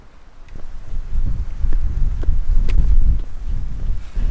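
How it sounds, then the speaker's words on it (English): Loud gusty wind buffeting the microphone on the winter summit of Hagar Mountain, a low rumbling roar rising and falling continuously with occasional light clicks, no voices. "It's definitely windy up here"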